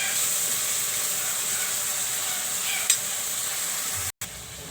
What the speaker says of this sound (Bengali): এখন আমি চিংড়ি মাছগুলো ভালো করে কষিয়ে নেব।